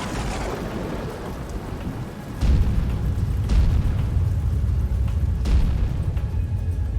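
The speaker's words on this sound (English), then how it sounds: "The sky was thundering and lightning" A thunderstorm rumbles with deep, rolling thunder, several heavy booms building over steady rain, loud and close with no talking.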